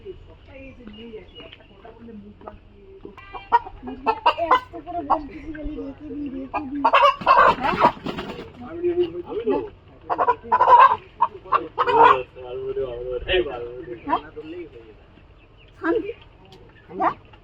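Desi village chickens clucking and squawking at a poultry farm, several close calls rising and falling, mixed with people talking.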